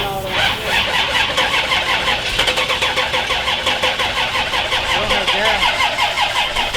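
A 1979 Trans Am barn find cranks with its starter, a steady rapid churning rhythm that runs loud and close without the engine catching. People talk in the background.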